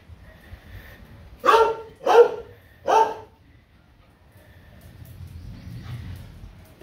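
Chinay, a 14-year-old dog, gives three distinct barks in quick succession, fairly close, then goes quiet against faint background noise.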